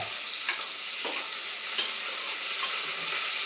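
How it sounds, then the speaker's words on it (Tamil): Onions dropped into hot oil for a country chicken uppu kari hiss in a loud, continuous sizzle with occasional sharp spatters, close up and with no talking. "அதுக்கப்புறம் வெங்காயத்தை போடுங்க. தெரிக்கும் நண்பர்களே."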